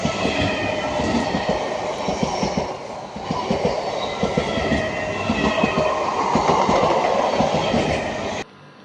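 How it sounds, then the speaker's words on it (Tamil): A train rolls past on the track at Kilambakkam station, Chennai, wheels clacking rhythmically with some metallic squeal, loud and close, then cutting off at the end. "அதில் வேறு இந்த இடத்துல ஒரு ட்ரெயின் போகுது. இது வந்து 2வது ட்ராக்கில் போகுது."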